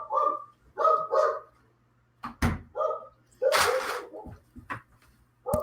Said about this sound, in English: We all respond to dog barking.